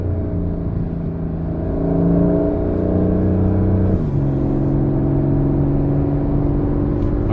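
A Porsche 911 Carrera 4 GTS T-Hybrid driving past foreclosures, its engine humming steadily, swelling as it accelerates and then dropping pitch with a gear change, heard from inside the car with no talk.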